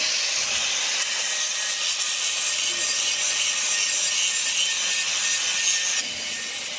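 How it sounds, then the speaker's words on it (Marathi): Grinder working on a pipe in a factory workshop, a steady loud abrasive hiss and rasp running continuously, easing slightly near the end; no talk. "इकडे पाईपला ग्रँडर मारायला चालू आहे"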